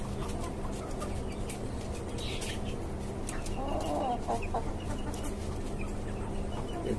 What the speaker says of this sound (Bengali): এই হচ্ছে আমার নতুন টাইগার মুরগিগুলো।